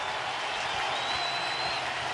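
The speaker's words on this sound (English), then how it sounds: "This crowd is amped up" A packed baseball stadium crowd at a World Series game between the Boston Red Sox and Los Angeles Dodgers roars and cheers in a steady, dense, distant wash of noise with a faint whistle cutting through midway.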